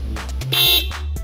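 A short electronic horn beep from a Honda CB400 motorcycle sounds loud and close, a brief buzzing tone over a low engine rumble, with no voices.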